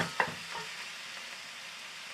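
Minced pork for Kapampangan torta stirred and fried in a pan: a sharp utensil scrape near the start, then a continuous soft sizzle with occasional stirring clatters, close and moderately loud, no voices.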